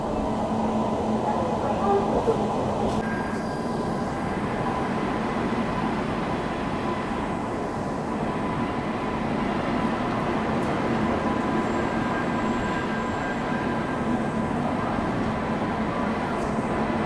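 Secunderabad Duronto Express running at speed while overtaking a Bhubaneswar–Puducherry train, a steady, loud rumble of wheels and carriage noise that continues without a break.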